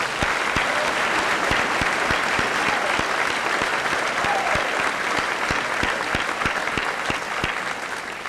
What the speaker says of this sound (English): Let's give those two teachers a nice round of applause